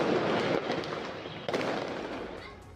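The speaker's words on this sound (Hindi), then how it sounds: "तो ये देखिए, पटाखे फोड़कर भी सेलिब्रेट किया गया है।" Firecrackers burst continuously during street celebrations, a dense crackling barrage with a sharp new volley partway through, loud and sustained.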